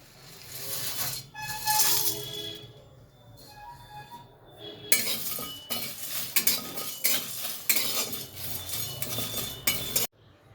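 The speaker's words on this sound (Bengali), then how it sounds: "এবার এগুলো কড়াতে ভেজে নেব।" Whole spices such as cardamom, cloves, cubeb pepper, dried red chillies, rose petals, mace, black cardamom, star anise and nutmeg being dry-roasted in a kadai, with metal spoon scrapes and clinks, rattling against the pan in bursts, close and fairly loud, no talking.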